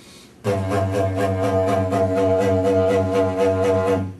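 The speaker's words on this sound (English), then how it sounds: "Okay, now here's what it sounds like through didgeridoo." A didgeridoo plays a loud, close, sustained drone driven from the diaphragm, with steady rhythmic pulsing throughout and a sudden start after a short quiet moment.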